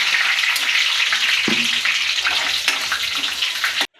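A spice tempering of peppercorns, cardamom, bay leaf and a red Byadagi chili sizzles loudly and continuously in hot oil, a dense crackling hiss that cuts off abruptly just before the end.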